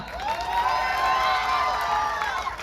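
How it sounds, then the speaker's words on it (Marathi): A large crowd at a Dahi Handi festival in Thane claps and cheers in a sustained, distant roar of applause with shouting, a broad wash of noise lasting the whole moment. "एकदा एमडी सरकारसाठी टाळ्या वाजवा ना"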